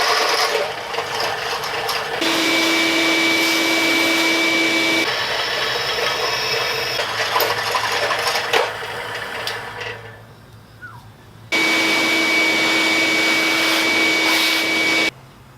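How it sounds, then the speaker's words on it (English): A drill press whines and grinds while drilling holes in steel for a Volkswagen Vanagon hitch, with loud sustained motor runs that stop and restart, a short quieter gap, then another long run before it cuts off. "I don't have a hand drill, so I gotta use this drill press"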